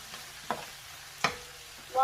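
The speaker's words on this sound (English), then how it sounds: "While that is sauteing" Shrimp sauteing over medium heat in a pan for Jamaican curry shrimp, with a few brief stirring scrapes standing out above a low, steady hiss.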